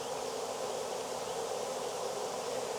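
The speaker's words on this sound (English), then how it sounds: "Man, there's a lot of bees in here." A dense swarm of honeybees hums continuously during hiving, a thick, loud, unbroken buzz filling the space at close range.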